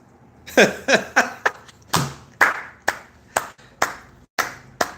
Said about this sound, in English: I gotta give you a clap for that one, Ashley.